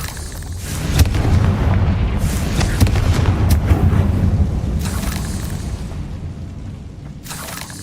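Loud, rumbling fire-spell blasts from the Hogwarts Legacy video game, a dense run of booming explosions lasting several seconds with sharp bursts near the start and a long, heavy low-end roar that slowly fades.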